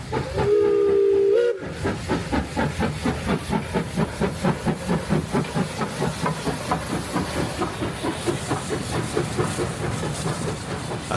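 The Tasmanian Transport Museum's M5 steam locomotive chuffs steadily and rhythmically as it hauls a special train over a former suburban line, after a short whistle blast at the start.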